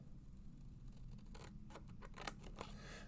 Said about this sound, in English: I'm going to take my Christopher Allen detail scissors, and I'm just going to cut.